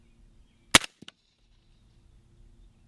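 Single sharp report from a short-barreled 300 Blackout rifle firing new subsonic ammunition, a loud crack followed by a brief echo in otherwise quiet surroundings.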